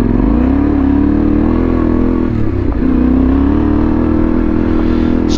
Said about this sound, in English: So plenty of traction, as well as plenty of wheel spin there